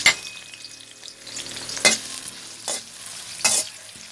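Garlic stir-fries in a hot pan for chicken fried rice, a soft sizzle punctuated by three loud, rasping spatula scrapes spaced about a second apart.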